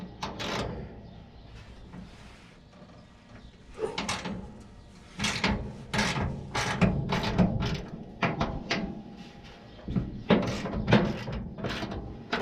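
Bolts being loosened with a ratchet from a Squarebody truck's bed hinge: close, intermittent metallic clicks and clanks in short bursts over a low workshop background, with no talking.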